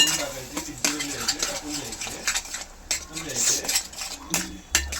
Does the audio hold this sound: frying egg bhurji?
yes